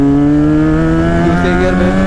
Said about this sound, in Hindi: अब थोड़ा पुल करते पहले गियर में, पुल करते हैं।